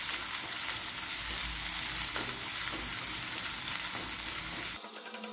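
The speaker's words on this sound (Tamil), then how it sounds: "இப்போ வெங்காயம் நல்லா வதங்கட்டும்." Sliced onions sauté in a hot pan for schezwan noodles, giving a steady, close hiss of sizzling oil with light stirring scrapes. No one speaks.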